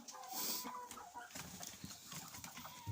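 A broody hen clucks softly in a warm henhouse lined with fresh straw, with low murmuring clucks and a few sharper calls close by, other hens faintly around, no talk.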